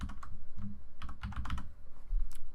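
Computer keyboard keys clatter in quick, uneven bursts of typing, close and clear, with no voices.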